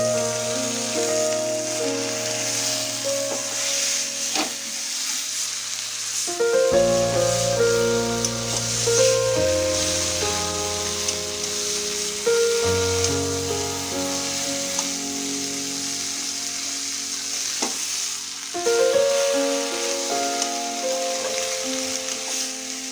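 Red taro greens drop into a hot pan and fry with a soft, steady sizzle, mostly buried under loud background music that plays throughout.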